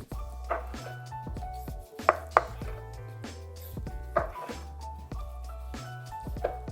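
Air-fried bacon-wrapped pork tenderloin being sliced with a fork and knife, a series of soft cutting strokes with occasional sharp clicks against the board.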